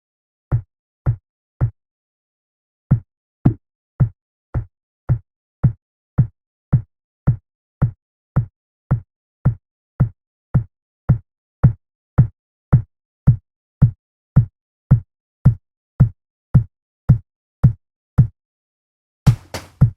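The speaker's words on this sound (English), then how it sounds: "let's repeat the kick throughout our beat." A kick drum beat built from field recordings: punchy, compressed low thumps repeating at a steady pace, about two per second, after a short pause near the start, ending in a denser cluster.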